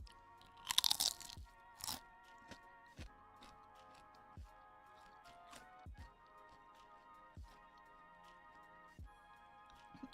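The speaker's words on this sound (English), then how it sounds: "Hear this crunch?" Food is chewed at the dinner table, with steady crunching bites close to the mic, a couple of louder crunches at the start, then a regular rhythm of softer chomps.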